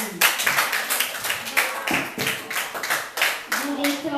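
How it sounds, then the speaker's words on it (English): Audience clapping at a class debate as the third opposition speaker is called up, a dense patter of many hands for about four seconds at moderate loudness with no talk. "A round of applause, please."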